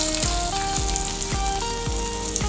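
Chopped vegetables sizzle steadily in hot oil with crackled mustard seeds for veg upma, a broad close frying hiss under soft background music, no talk.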